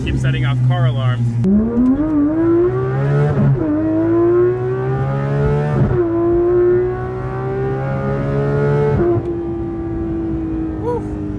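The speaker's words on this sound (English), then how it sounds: "This car with a full titanium exhaust, this thing really screams" A Porsche GT3 RS 4-liter engine with a full titanium exhaust screams loudly and up close, pitch climbing through several gear shifts with sharp breaks between pulls.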